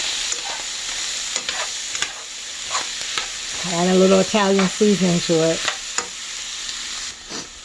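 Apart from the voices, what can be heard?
beef stir frying in pan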